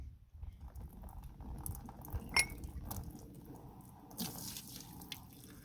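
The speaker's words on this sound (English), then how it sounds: "I might just fill it up with warm water and make sure it doesn't leak" Warm water poured into the radiator of a John Deere 830 Industrial tractor, a faint, steady trickle and splash with scattered drips and small clinks, heard close up in a quiet setting.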